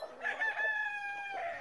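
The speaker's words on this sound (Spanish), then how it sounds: "Pues ya las gallinas comieron la mayoría." Chickens on a ranch give a single drawn-out, crow-like call lasting over a second, close and clear, with no talking.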